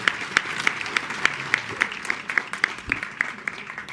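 Audience applause after a speech at a popular democracy conference, a modest room of clapping with distinct, rhythmic individual claps standing out over a softer wash, fairly quiet and alone.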